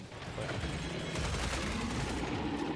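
An automated turret keeps firing in the horror shooter Killing Floor 3, a steady rattle of rapid shots that runs nonstop at a low, distant-sounding level.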